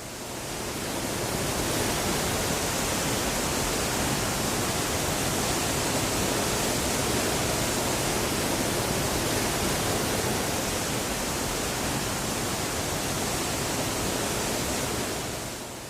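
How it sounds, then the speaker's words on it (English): Steady, dense roar of a waterfall in Nyungwe forest, Rwanda, broadband and unbroken from start to finish with no other sounds or voices. "Waterfalls are among the hidden treasures of Nyungwe"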